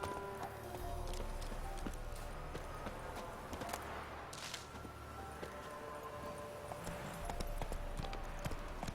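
Rhythmic clip-clop of a horse's hooves as Roach trots through The Witcher 3 game world, steady and fairly close over continuous ambient game sound.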